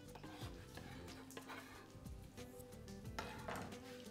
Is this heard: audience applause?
no